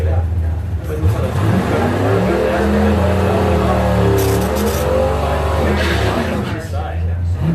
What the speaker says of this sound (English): You can hear he's got some problems with this carburetor.